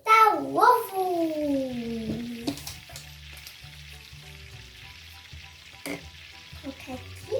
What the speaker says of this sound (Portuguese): Agora eu vou fritar o ovo.